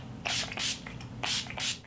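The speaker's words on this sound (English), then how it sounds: "I'm going to go ahead and mist my face with my Urban Decay All Nighter Makeup Setting Spray" Urban Decay All Nighter makeup setting spray misted onto a face: several close, loud bursts of fine aerosol hiss come in two pairs with short gaps between, against a low steady hum.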